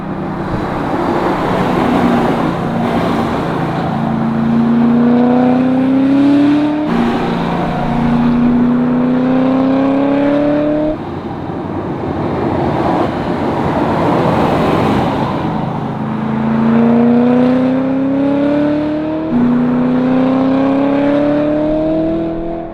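Manual-transmission 670 whp Cadillac CTS-V Wagon widebody driving and accelerating hard through a neighborhood, a loud, close engine roar rising in pitch through repeated gear pulls with brief dips at each shift.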